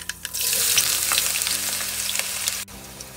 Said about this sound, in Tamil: ஸோ ஆனியன் வதங்கட்டும்.